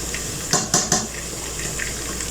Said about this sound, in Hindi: तो अब हम इनका पानी ड्रेन कर लेंगे